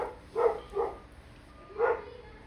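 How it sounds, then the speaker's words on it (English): A dog barks three times in a short burst, two quick barks followed by a third after a pause, fairly close and clear over a quiet room. "All of a sudden, this dog wants to bark."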